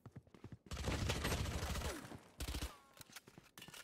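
Shotgun gunfire in the tactical shooter Valorant, a short loud burst of close shots and clatter followed by a few sharp shots, with brief quiet gaps between them.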